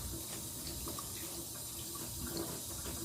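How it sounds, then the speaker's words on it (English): Tap water runs steadily into a kitchen sink as boiled turkey wings are rinsed under it, a continuous close splashing stream with no talking. "Make sure ain't no feathers or none of that on them. Rinse them real good."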